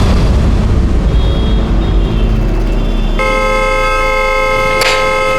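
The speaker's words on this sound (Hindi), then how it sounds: "कौन है ये नॉन स्टॉप हॉर्न बजा रहा है" A car horn blares continuously without letup in Indore, loud and steady over a rumbling engine and background noise.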